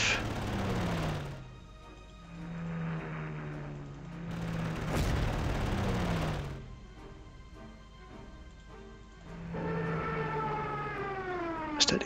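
Rapid artillery and gunfire from the World War II strategy game Panzer General, set around Lillehammer, with loud repeated blasts and booms alongside descending siren-like whistles, filling the scene without any talking.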